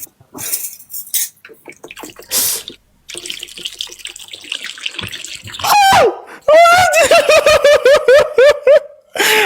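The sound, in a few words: water being poured into a container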